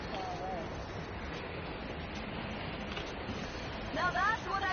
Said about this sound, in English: Now that's what I call a blizzard.